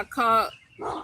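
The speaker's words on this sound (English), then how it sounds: "That's the dog, the neighbor's dog barking." A neighbor's dog gives two short barks in quick succession, fairly close and clear, with a voice briefly overlapping.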